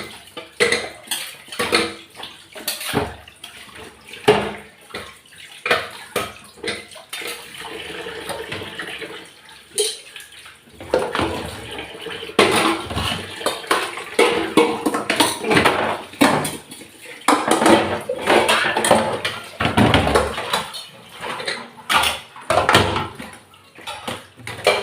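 Dishes, pots and pans being washed under running water at a household sink, with repeated clattering of metal vessels and cutlery, splashing and tap flow in irregular bursts, loud and close without talk.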